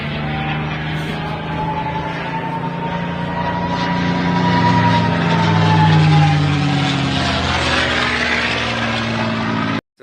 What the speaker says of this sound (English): The Spitfire was exceptional on account of the fact that it had that amazing Merlin engine